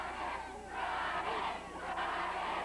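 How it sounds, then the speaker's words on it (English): Wrestling crowd at a Stampede Wrestling arena match, chanting a name in steady repeated rounds, a loud rhythmic chant of many voices filling the hall throughout. "Crowd chanting, Brian, Brian, Brian"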